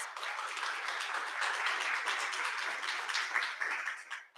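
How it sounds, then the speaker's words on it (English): An audience at a TEDx event applauds performers, dense steady clapping filling the room for several seconds before tapering off at the end. "Let's give them another round of applause."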